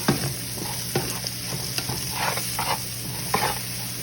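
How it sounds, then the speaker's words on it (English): Peppers, onions and cabbage frying in olive oil are stirred in a pan, giving a close, continuous sizzle broken by repeated scraping and clacking stirs. "We're gonna give this a nice little mix."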